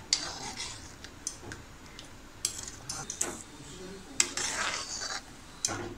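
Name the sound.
stirring pithla (gram flour curry) in a kadhai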